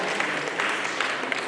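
An audience breaks into brief, lively clapping at a Kyrgyz Naryn community celebration evening, a dense burst of many hands applauding together with some faint voices mixed in.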